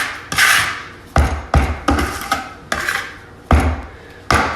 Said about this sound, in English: Take a margin trowel, scrape them off.